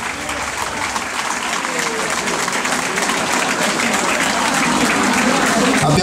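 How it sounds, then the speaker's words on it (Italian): A crowd at a samba dance recital gives a dance couple a big, sustained round of applause, thick and loud and steadily building, with a few voices mixed into the clapping. "Facciamogli un grande applauso"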